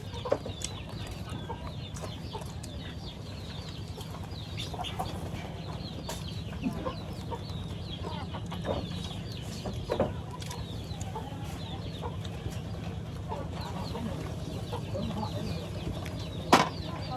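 Chickens cluck and murmur steadily in a farmyard, with scattered sharper calls and occasional small knocks over a constant low background hum.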